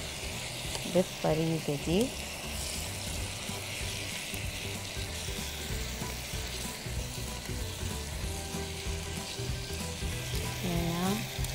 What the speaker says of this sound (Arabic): هنا هنفضل نقلب، هيتداخل معانا طبعا الخضار حقنا ده